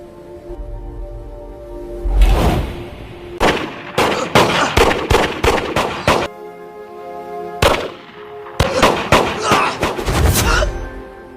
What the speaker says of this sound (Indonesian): Saat menembak Abdi, Rika sengaja mengarahkan tembakan ke tempat lain